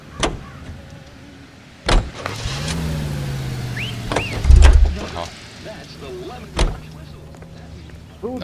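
Car door thuds and a running car engine with a power-window whir in the 1940s Los Angeles crime game L.A. Noire, with a few sharp door clunks over a steady engine hum and brief voices.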